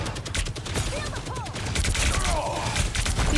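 Rapid gunfire bursts in a Marvel Rivals esports tournament match, dense and continuous alongside game effects, with a caster talking over the action.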